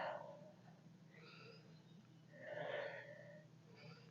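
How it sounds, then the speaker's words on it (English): Heavy, labored breathing from someone exerting through a circuit training workout, a steady run of breaths that swells louder midway, close and alone with no talk. "Sorry for the breathing."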